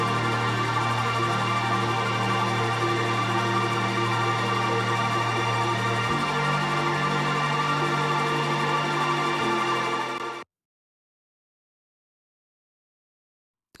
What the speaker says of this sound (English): So the thick pad sounds something like this.